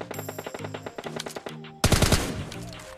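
Rapid automatic gunfire from a PUBG Mobile Lite match: several short, evenly spaced bursts, then a louder, denser volley near the end.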